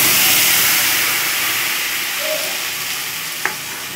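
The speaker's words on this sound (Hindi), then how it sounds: "पिसा हुआ मसाला जो है वो डाल रही हूँ" Ground spice paste hits hot oil in a frying pan while cooking rohu fish, a loud, dense, continuous sizzle that slowly eases over a few seconds, with one faint tap near the end.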